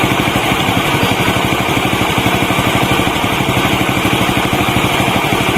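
A motorcycle engine with a Viar fullwave PNP stator on a Grand/Supra idles and revs at close range, giving a loud, steady, rapid low pulsing throb with no talk over it.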